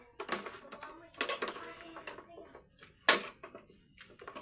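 Pork sisig stirred in a pan with a spatula, giving scattered scraping and clinking bursts with short pauses between them and one sharp louder clank near the end, close by.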